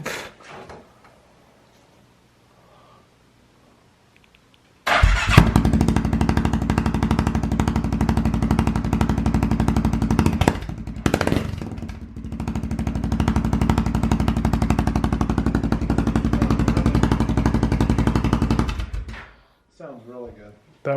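A Polaris Sportsman 570 ATV fitted with an RJWC exhaust starts up after a quiet stretch and idles loudly and steadily for about fourteen seconds, close by, with a brief rev, then shuts off as a voice speaks.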